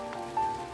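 Light rain falls at Lake Leonard, a brief, steady hiss of drizzle with a thin tone running through it and no voices.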